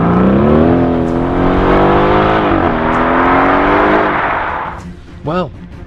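Loud 4-litre twin-turbo V8 of an Aston Martin Vantage climbs steadily under acceleration, then eases off near the end with a short whooping burst as the revs drop away.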